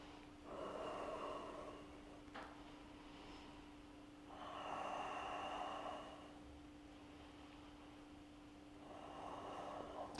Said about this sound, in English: turn it up to the ceiling and take a few deep breaths here